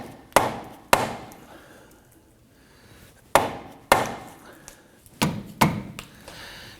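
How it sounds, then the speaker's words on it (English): Hammer blows on the front wheel hub of a 2015-2024 Nissan Murano to line up a control arm ball joint, six loud metallic bonks in two spaced groups with short ringing decay. "Now sometimes bonking the hub, we can get this to line up a little bit."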